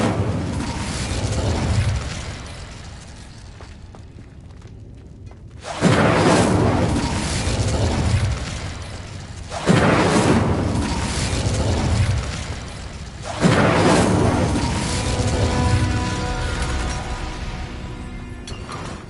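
Fiery spell blasts from the Incendio charm in Hogwarts Legacy, four booming bursts spaced a few seconds apart, each a loud explosive onset that rolls off into crackling rumble.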